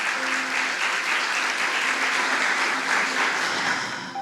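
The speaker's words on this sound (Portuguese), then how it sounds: "Então aplauda o Senhor." A congregation applauds during a Christmas church service, a full sustained wave of clapping at steady strength that fades slightly at the very end, with a faint held tone underneath.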